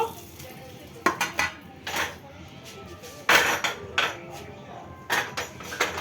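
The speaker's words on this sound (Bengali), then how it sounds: "এবার আমি কড়াইটাকে বসিয়ে দেব" A metal wok clanks and scrapes in a series of sharp knocks as it is set down and shifted on a stovetop, close by, while cooking eggplant.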